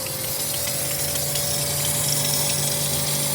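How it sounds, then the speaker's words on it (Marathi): Pressure water flushing through the engine coolant system of a Hyundai Santro in an auto garage, a steady, loud pump-driven hiss and gush running continuously with a constant mechanical hum underneath. "त्यासाठी प्रेशरनं पाणी मारणं हे खरंच गरजेचं आहे."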